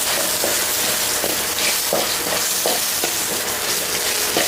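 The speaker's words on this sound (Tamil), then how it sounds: "கறிவேப்பிலை போட்டு நல்லா வதக்கணும்" Curry leaves and dried chillies sautéing in a pan for chicken chukka: loud, dense crackling sizzle throughout, with repeated rhythmic stirring scrapes every half second or so, close.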